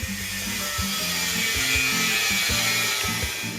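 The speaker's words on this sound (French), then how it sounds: "Petit coup de meuleuse." An angle grinder cuts through a weld point on a steel boat hull in the hold, a loud continuous abrasive grinding hiss with rhythmic low knocking and vibration underneath, close by and uninterrupted.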